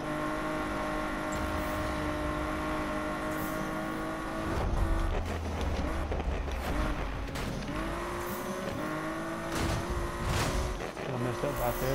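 Nissan R34 GTR engine pulling hard under acceleration, with loud, steady harmonic engine tones rising through gear changes, close to the listener inside or beside the car, with brief tire noise.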